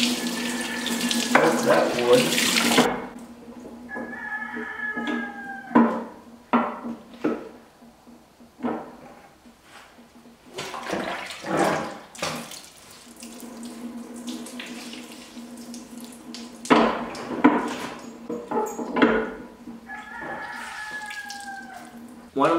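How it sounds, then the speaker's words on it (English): Water and vinegar run and splash intermittently into the hopper of a cider press during cleaning, with someone speaking briefly over it and some clattering in between. "Dump a little bit of the water and vinegar right in the hopper."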